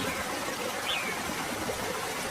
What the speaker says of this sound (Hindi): जैसे जैसे बारिश तेज होती गई, बारिश का पानी पंछियों के घोंसले तक पहुंचने लगा।